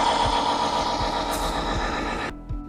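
The drive engine of a student-built robot vehicle runs with a steady high mechanical whine and rhythmic low thumps, loud and close, cutting off abruptly near the end.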